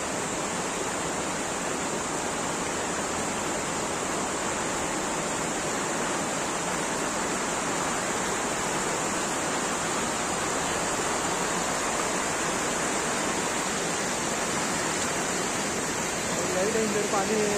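A river rushing hard during heavy monsoon rain where village boys are fishing, a dense, constant broadband roar of water that holds steady from start to finish with no break.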